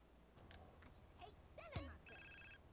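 A phone rings in Grand Theft Auto: San Andreas, a short burst of repeated electronic ringing tones that comes in near the end, faint and brief, after a speaking voice.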